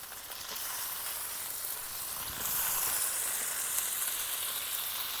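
Thinly sliced potato goes into a hot kadai with tomatoes and spices for a Bengali prawn curry. A continuous frying sizzle swells louder partway through and stays bright and close, with no talking.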